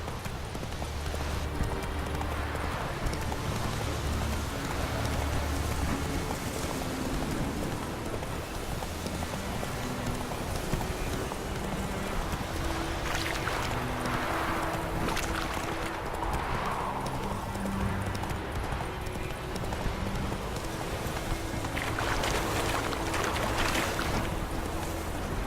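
Roach the horse clip-clops along in a video game, with steady hoofbeats over a wet, rainy backdrop and faint ambient sound, continuing throughout.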